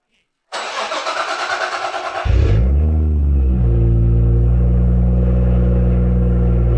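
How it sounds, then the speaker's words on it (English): A Nissan 200SX with an RB25 engine cold-starts: after a moment of silence the starter cranks with a rapid pulsing whir for about two seconds, then the engine catches with a loud, deep rumble and settles into a steady, full-bodied idle. "let's record a cold start and begin with a new one. Nissan 200 SX with an RB25 engine."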